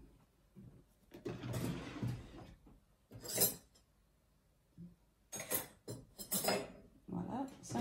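Aloe vera gel being scooped with a tablespoon for a homemade body lotion, heard as a series of soft scrapes, clinks and wet spoon sounds in short bursts with quiet gaps between them.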